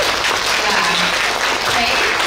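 An indoor audience claps together in sustained, dense applause that stays at an even level throughout, with a faint murmur of voices mixed underneath.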